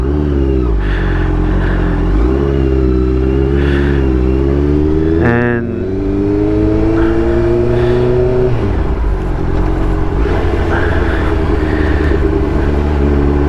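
A motorcycle engine roars up and down through repeated revs and gear changes, loud and close, with a continuous throaty rumble.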